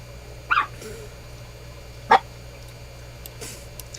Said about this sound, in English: I love hearing the dogs bark